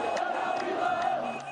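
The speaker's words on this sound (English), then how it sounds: "The Libyan rebels are cheering." Crowd of Libyan rebels cheering and shouting together, a dense chorus of voices heard at moderate distance throughout the short moment.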